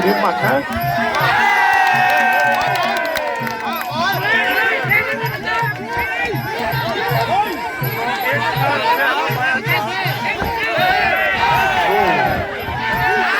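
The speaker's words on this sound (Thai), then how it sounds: "เสียงเชียร์เสียงเชียร์ครับ" Spectators at a Muay Thai boxing match cheer and shout in loud, continuous waves, with a steady rhythmic pulse running underneath and voices calling out over the din.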